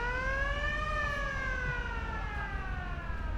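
An ambulance siren wails at Australia's biggest one-day car show at Hanging Rock, a loud, close tone that rises and then slowly falls in pitch over steady background traffic noise, with no talking.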